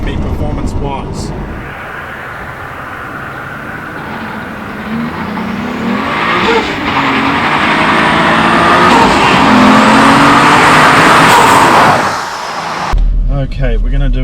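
A Toyota Supra's engine drones loudly up close, swelling in pitch and volume before cutting off abruptly, with a voice talking at the start.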